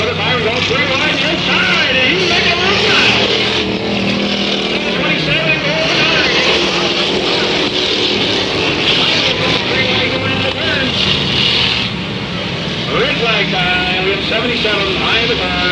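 Race cars roar continuously around an oval track, a dense, loud engine drone that swells and fades slightly as the pack passes, with a commentator talking over it throughout.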